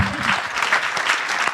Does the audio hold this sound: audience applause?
yes